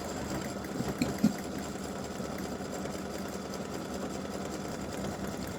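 An embroidery machine stitches the outline of a freestanding-lace bow earring, a steady continuous mechanical whir at even level throughout, with a couple of brief clicks near the start.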